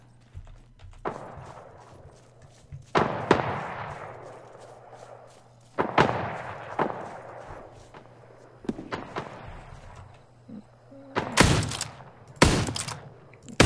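Western-style gunshots in the Wild West online game New Frontier, sharp repeated bangs spread through the scene with two loud close blasts near the end over a steady background hum.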